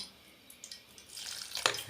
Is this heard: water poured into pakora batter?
yes